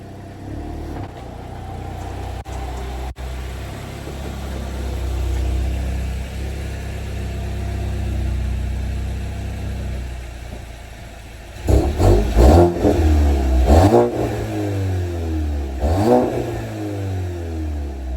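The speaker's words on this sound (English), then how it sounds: "I'm gonna set up a camera so you guys can see me pulling in." A lowered Volkswagen MK8 GTI pulls in, its engine a low, steady idle and rumble that swells and revs with louder bursts near the end, close by and without talk.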